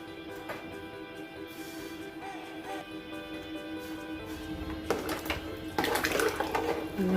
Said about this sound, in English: It's 1 cup of rice, for which I'm adding 2 cups of water.